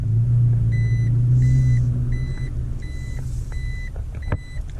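A Toyota Tacoma sounds a repeating warning chime while being driven without its key fob: evenly spaced electronic beeps sound over a low engine and road rumble, with a louder click near the end.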